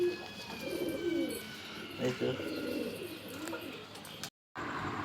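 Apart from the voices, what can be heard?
free-roaming pigeons cooing in loft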